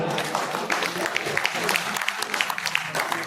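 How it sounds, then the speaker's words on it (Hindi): An audience at an Urdu poetry evening in Lucknow breaks into sustained applause, a dense, steady patter of many hands clapping throughout. "एक बार जोरदार तालियों के साथ"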